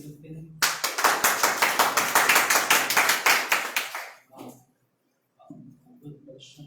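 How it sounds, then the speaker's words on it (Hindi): A church congregation gives the worship team a loud burst of hand clapping that starts abruptly, stays fast and dense for about four seconds, then stops, leaving brief silence before a voice speaks. "आज के वर्शिप के लिए हम लोग जोरदार ताली दे सकते हैं।"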